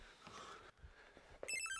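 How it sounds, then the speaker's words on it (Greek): An indoor telephone starts ringing near the end, a bright, rapidly trilling bell that cuts in loudly after a stretch of quiet room sound and faint movement. "Το τηλέφωνο σου."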